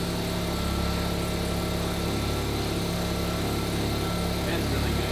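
Steady, loud idle of a rotary engine fitted in a Corvette with boost, a continuous close buzzing drone with no changes in pace.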